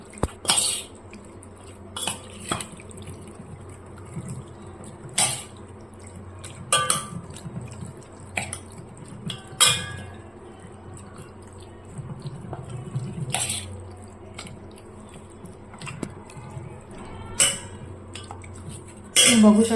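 A spoon clinks and scrapes against a metal pot while chicken masala is stirred and mixed, repeated sharp taps at irregular intervals over soft wet squelching, close and moderately quiet.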